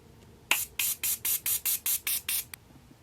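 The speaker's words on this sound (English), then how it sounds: "let me test spray" Eight quick bursts of fine makeup setting spray mist in an even rhythm, close and fairly loud, with one short final puff after them.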